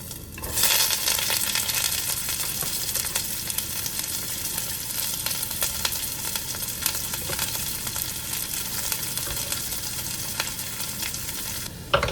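Garlic and onion hit a hot pan for kimchi jjigae and fry with a loud, dense, continuous sizzle that holds steady for about twelve seconds.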